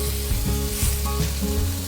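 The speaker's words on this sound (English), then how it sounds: "you steam them, you're actually frying them, steaming them, and then frying them again" Food steam-fries and browns in a pan with a continuous dense sizzle and crackle, plus occasional stirring movements close by.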